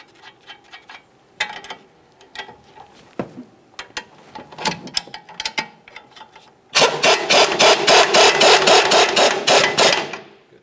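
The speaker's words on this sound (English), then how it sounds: "Start on your mounting nut, and we'll be torquing this to 48 foot-pounds." Mounting nut on a front strut sway bar link of a 2013-2015 Chevrolet Malibu being run down with a wrench: scattered clicks and taps, then a loud, steady, rapid ratcheting burst near the end.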